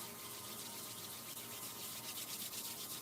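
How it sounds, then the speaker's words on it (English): Palms rubbed together briskly during a guided energy exercise, giving a steady, close, continuous dry friction swish with no talk over it. "And let's rub our palms together."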